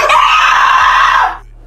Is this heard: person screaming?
yes